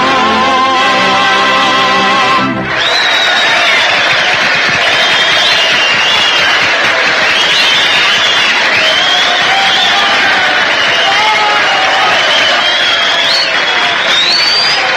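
A large 1930s theatre audience bursts into loud applause and cheering for a performer after music ends, a roaring sustained wall of clapping with whoops and shouts throughout.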